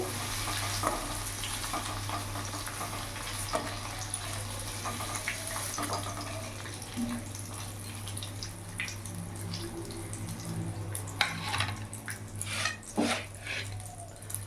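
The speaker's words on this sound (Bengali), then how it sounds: "হালকা শ্যালো ফ্রাই করে নিয়েছি, এবার নামিয়ে ফেলবো।" Pointed gourd pieces shallow frying in oil give off a steady, close sizzle with a low background hum and scattered clicks and stirs, louder toward the end.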